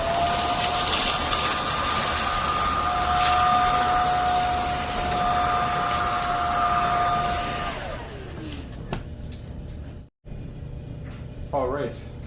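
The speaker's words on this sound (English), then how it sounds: "we're going to just vacuum this up" A Zoker A10 cordless vacuum runs steadily for about eight seconds, sucking debris off a hardwood floor, with a whining motor tone that winds down as it shuts off. A brief voice follows in the quieter tail.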